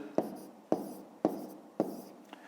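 Handwritten digits scratched onto paper for a school maths exercise: four evenly spaced pen strokes and a faint fifth tick, close and soft, with no voice.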